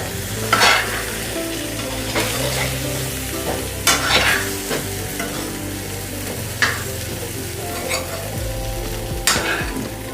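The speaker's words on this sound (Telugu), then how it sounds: "ఇప్పుడు బాగా కలుపుకోవాలండి." Eggplant curry with salt and turmeric is stirred in a pan, with a spoon scraping sharply every second or two over a constant close sizzle.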